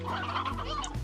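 A stony hen, a rock-covered chicken in the game Slime Rancher, gives a short run of soft clucks, close and fairly quiet, with no one talking over it.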